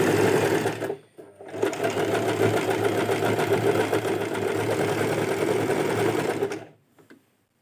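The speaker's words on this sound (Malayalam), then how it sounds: "ഇനി ബാക്കിയുള്ള ഭാഗം കൂടെ ഒന്ന് ഇതുപോലെ സ്റ്റിച്ച് ചെയ്തെടുക്കുക" An overlock serger runs steadily as it stitches along the edge of a piece of fabric, a close, dense mechanical whir that stops briefly just after the start, resumes, and then cuts out near the end.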